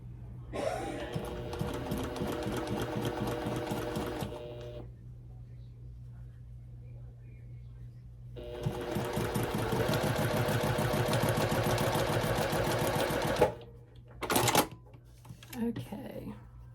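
A sewing machine stitching pieces of a quilt block, with two long runs of rapid, even mechanical chatter separated by a quiet pause, close and loud, followed by brief handling bursts.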